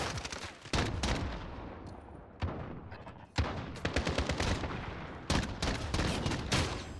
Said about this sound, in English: No, shotgun, that's a shotgun